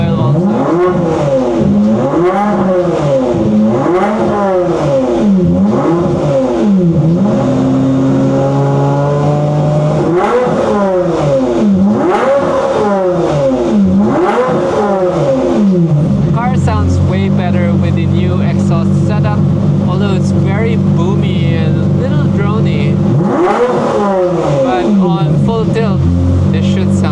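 A Ferrari engine, either the 550 or the 458, revs repeatedly while warming up cold, rising and falling in loud swells before settling into a steady idle. Speech is mixed in at times.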